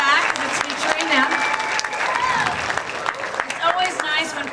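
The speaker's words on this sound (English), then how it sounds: "Give another round of applause for our mallet players in the back, because it's featuring them." A school symphonic band concert audience claps for the mallet percussion players, steady applause filling the hall while a voice talks over it throughout.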